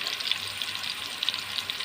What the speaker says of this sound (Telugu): ఇప్పుడు ఆయిల్ కాగింది. ఉల్లిపాయ పేస్ట్ వేసేసుకున్నాం.